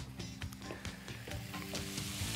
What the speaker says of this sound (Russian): вода испарилась, и сейчас лук снова начинает жариться